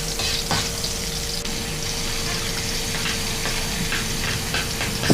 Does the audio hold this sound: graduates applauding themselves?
no